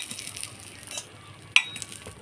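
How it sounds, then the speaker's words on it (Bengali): Whole cumin and cardamom fry in a little oil in a kadai over a lit clay stove, with a soft, steady sizzle broken by a couple of light stirring clicks. "সামান্য তেল দিয়ে জিরা আর এলাচ ভেজে নিব।"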